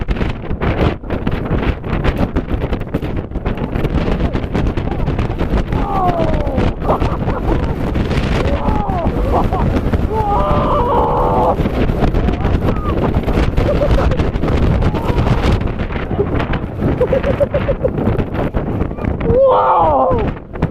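Strong wind gusts in an Alaska blizzard roar and buffet the microphone continuously and loudly, while excited voices exclaim under the roar in the middle and near the end.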